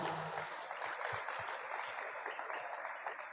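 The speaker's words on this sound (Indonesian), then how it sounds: "Jadi kita beri aplaus untuk teman-teman angkatan pertama" An audience claps at a university book launch event, a dense, fairly faint patter of many hands that runs steadily throughout with no one speaking.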